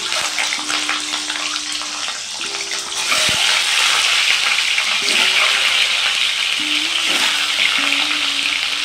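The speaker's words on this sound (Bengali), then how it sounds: "ডিমগুলোকে হালকা করে ভেজে নেব।" Boiled eggs fried with salt and turmeric in a pan, giving a loud, continuous sizzle that grows stronger midway, with occasional stirring scrapes, close up.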